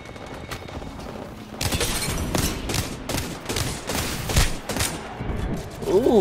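Rapid bursts of gunfire in the Apex Legends battle royale, sharp repeated shots in quick clusters with a glassy crack near the end, loud and close, with players talking faintly underneath.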